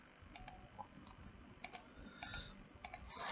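Computer keyboard keys clicked in a few short bursts while a name is typed, quiet and close, with small pauses between groups of taps and no voices.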